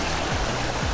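Waterfall at Los Chorros in the Huasteca, a double cascade whose lower fall spreads like a bridal veil, gives off a steady, loud wash of rushing water with no break across the short moment.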